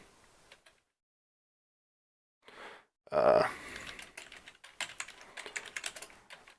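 Fingers tap on a computer keyboard, starting with a brief click and a short burst, then settling into a quick run of close, crisp keystrokes after a near-silent pause.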